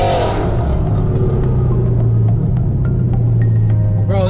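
A Dodge Charger 392 engine revs loudly and close by, a deep rumbling roar that holds steady throughout.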